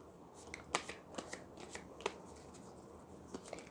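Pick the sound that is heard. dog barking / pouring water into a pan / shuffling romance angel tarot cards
shuffling romance angel tarot cards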